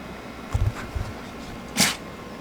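A single sharp sneeze bursts out near the mic about two-thirds through, preceded by a couple of soft low thumps, in a quiet space where a DA9 Integra interior is being restored.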